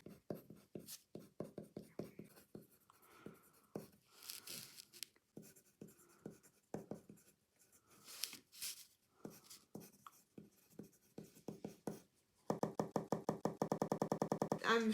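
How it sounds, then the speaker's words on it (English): A metal Staedtler hexagonal pencil scratches across paper in quick strokes and pauses, close and crisp, ending in a fast run of rapid scribbling. "this pencil when I write sounds extremely good, and this is because it's made mostly out of metal"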